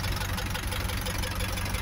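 An Isuzu Elf truck with a 4BE1 diesel engine idles close by, giving a steady, loud, rough clatter with a constant knocking rhythm and no talk over it.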